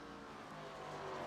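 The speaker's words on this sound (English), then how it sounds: "His engine's screaming." An ARCA Series race car engine screams at Road America, a sustained high-pitched whine held steadily at moderate distance over the track ambience.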